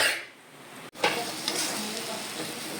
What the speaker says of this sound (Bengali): গ্যাসটা অবশ্যই আস্তে করে দেবে ঘন ঘন এটাকে নেড়ে নেড়ে দেখবে যে পোড়া যাতে না লাগে